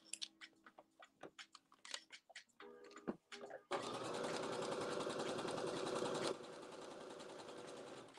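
A sewing machine stitches a dart in a muslin blazer: scattered clicks and handling sounds first, then a loud steady mechanical whir that runs several seconds and drops slightly in level before the end.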